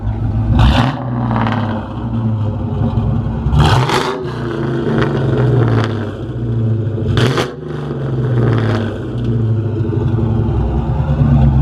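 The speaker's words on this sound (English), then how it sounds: "Give it a few revs." Ford Mustang GT V8 fitted with an off-road X-pipe, revved repeatedly, several sharp rising blips over a rough, throaty idle, loud and close with no talk.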